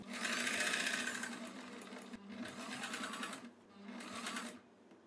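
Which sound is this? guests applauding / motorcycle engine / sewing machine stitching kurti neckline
sewing machine stitching kurti neckline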